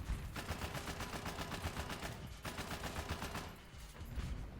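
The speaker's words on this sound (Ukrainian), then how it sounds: "Кулемет у нас теж лайно курсовий." Hull-mounted machine gun on a Concept 3 tank in War Thunder firing in sustained rapid bursts, loud and dense, with a brief pause around the middle and another dip near the end; no talk over it.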